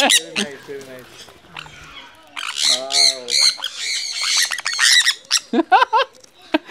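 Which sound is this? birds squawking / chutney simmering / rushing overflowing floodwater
birds squawking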